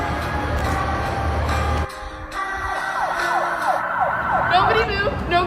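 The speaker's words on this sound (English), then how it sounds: "Ambulance is here." A wailing ambulance siren sweeps up and down over traffic noise, loud and nearby, after a rumbling engine passes at the start.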